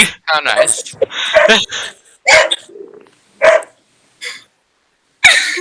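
A pet dog barks in several short, loud, close yaps, with people talking in between.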